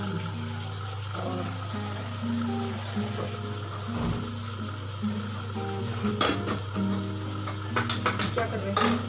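Food being roasted over a high flame in a pan, with a steady sizzle and frying hiss, occasional scraping and clinking of a spoon stirring against the metal, and a voice talking over it.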